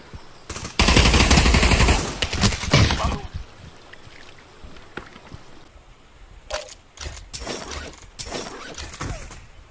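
Pistol gunfire in the VR shooter Pavlov VR, a dense burst of loud rapid shots at first, then scattered single sharp cracks and mechanical clicks spread over the following seconds.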